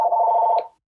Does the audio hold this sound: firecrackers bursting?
no